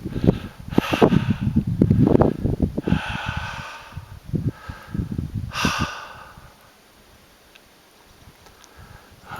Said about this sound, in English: I'll try to stop the heavy breathing for a second.